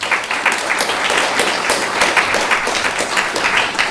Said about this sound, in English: I'd like to give them a big round of applause